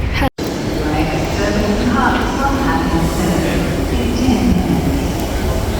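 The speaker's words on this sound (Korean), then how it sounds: "약간 지하철인데 우리나라 기차역 같아요." A subway-like train rumbles through a busy morning station, a loud continuous roar of rolling wheels with clatter over it, and people talk throughout.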